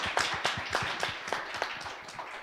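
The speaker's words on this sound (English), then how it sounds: "another round of applause for the Cypriots that were here today" A small group at a start-up pitch event in Cyprus claps steadily in an uneven, sparse rhythm. The individual hand claps are distinct and sound fairly close.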